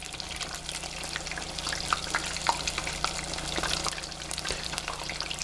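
Shrimp frying in hot oil for a zucchini tempura dinner, a steady close bubbling sizzle throughout with a few faint clicks from a spider strainer turning them, no talk.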